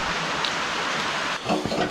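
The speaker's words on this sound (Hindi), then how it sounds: "कितना बारिश होगा रे यार।" Rain falls steadily outside, a close, even hiss of drops that swells briefly near the end.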